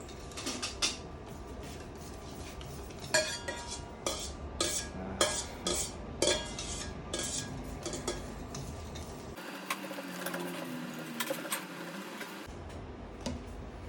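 Spoon scraping thick vanilla pancake batter against the bottom of a mixing bowl, a run of quick, fairly close clinking scrapes and taps in an irregular rhythm, with a brief quieter stretch before a few final scrapes.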